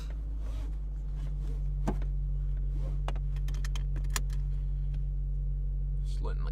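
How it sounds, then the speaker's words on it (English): A car engine idling just after starting, a steady low hum running throughout with a few faint clicks and taps from inside the cabin. "So I just turn the car on."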